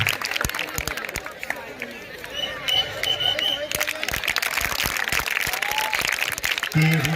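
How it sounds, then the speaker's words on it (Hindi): Loud, sustained applause from a crowd of school scout children and officials at a police line traffic-month closing ceremony in Barabanki, with an announcer's voice over the clapping. "स्काउट तक के सारे बच्चों की जोरदार ताली"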